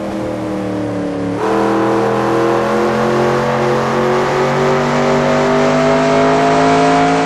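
A race car's engine drones loud and steady around Richmond in NASCAR Racing 2002, its pitch stepping up after a shift and then holding a sustained high-revving tone.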